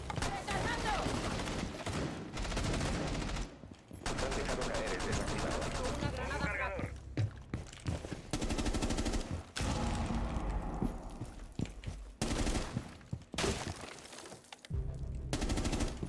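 Automatic weapons fire in Rainbow Six Siege: near-continuous loud bursts and rapid shots with brief pauses, layered with excited talk.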